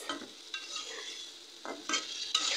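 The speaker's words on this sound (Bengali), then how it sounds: "সবজিগুলো ভালো করে নাড়াচাড়া দিয়ে মিশায় মশলার সাথে" Vegetables and potatoes are stirred through frying spices in a pan for a tilapia curry, giving close, intermittent scraping strokes over a soft continuous sizzle.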